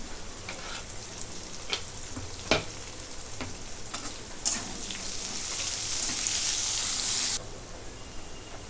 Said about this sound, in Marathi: कांदा जरा घेते आता मिरच्या टाकून घेते